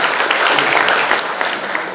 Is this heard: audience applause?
yes